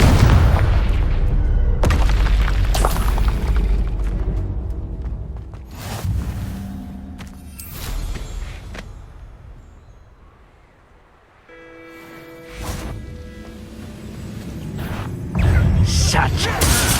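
Spell effects such as Confringo and Depulso in Hogwarts Legacy: a run of loud booming blasts and crackling impacts with mechanical rumble, separated by quieter stretches of ambience.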